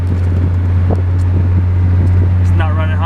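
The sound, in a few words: Honda Del Sol driving on a bumpy road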